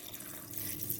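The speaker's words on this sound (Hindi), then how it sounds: "पानी डाल देंगे" Water is poured into a pressure cooker holding shahi paneer, giving a brief, soft splashing and trickling sound with no voices.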